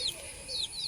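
Faint high-pitched peeping of young chicks, a few thin chirps scattered across a brief, quiet moment.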